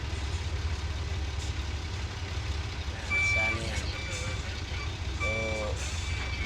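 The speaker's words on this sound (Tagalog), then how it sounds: "Yan ating mga nag-ooperasyon ng mga dump truck natin" A new dump truck working on a leveled site reverses, its engine idling low while backup beeps sound in two short bursts of repeated tones, moderately distant.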